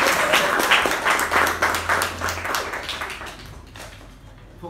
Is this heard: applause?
yes